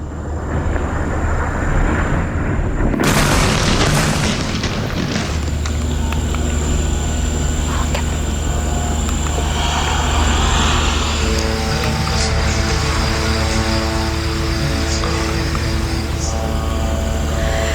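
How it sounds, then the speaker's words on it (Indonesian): An airstrike on Ali Al-Taher hill near Nabatieh in southern Lebanon sets off a sharp blast, followed by a loud, steady mechanical buzzing that hangs overhead and fills the air. "Rekaman video menunjukkan hantaman serangan di lereng bukit dengan kilatan ledakan dan suara pendengung"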